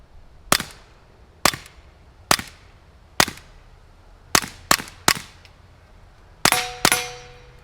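A Smith & Wesson .22 rifle fires Federal 40 grain Gold Medal rounds in about nine sharp, crisp shots, some spaced and some in quick pairs, several followed by a ringing metallic clang.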